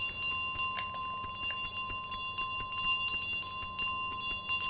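Repeated bell ringing from Untitled Goose Game, a steady run of bright metallic dings with sustained tonal ringing, fairly loud and continuous over faint low background noise.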